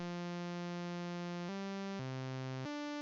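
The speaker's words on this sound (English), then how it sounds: "Then the sawtooth wave is what I used in the final version." A buzzy synthesized sawtooth tone plays a few sustained notes in sequence, bright and rich in harmonics, steady in volume with no other sounds.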